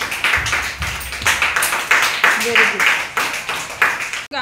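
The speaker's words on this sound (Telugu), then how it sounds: "క్లాప్స్ కొట్టండి." Small children clapping together in an anganwadi classroom, a quick, steady run of claps close by, with a teacher's voice speaking briefly over them.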